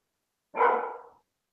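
A dog barks once, a single loud close bark ringing out in an otherwise quiet moment.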